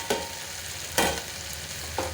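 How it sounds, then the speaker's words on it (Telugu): Spicy fish curry sizzles gently in a pan under a steady low fry. Three distinct scraping stirs sound at roughly one-second intervals, close by, with no talking. "మధ్య మధ్యలో ఇలా కలుపుతూ ఉండండి"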